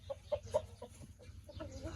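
Chickens cluck in a short series of bursts near the listener, with hens and chicks kept at a farm pen of aseel fowl, softer calls and steady low background noise following.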